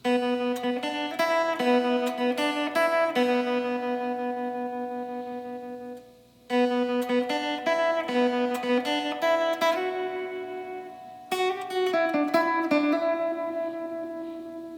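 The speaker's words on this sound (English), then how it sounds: "I'm gonna take off the tube screamer," A clean electric guitar plays a repeated melodic phrase with a shimmering tremolo, bright and sustained, stopping briefly twice before starting again.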